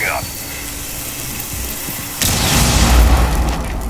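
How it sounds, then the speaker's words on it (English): A flash grenade goes off in Rainbow Six Siege, a sudden broadband blast about midway that leaves a loud, sustained ringing wash with low rumble, following a quieter stretch of game ambience. "Flash grenade out."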